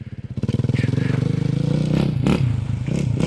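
A Suzuki RMZ 450 dirt bike engine roars close by outdoors, a rapid pulsing exhaust note that rises as the rider opens the throttle, with clattering and a whoop from a rider over it.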